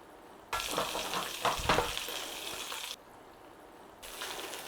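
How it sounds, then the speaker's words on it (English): Oil sizzles and spits around sausages browning in a pan in loud bursts, with short quieter gaps between, close up and without any voices. "just start putting a little bit of browning on those sausages, nice and gently."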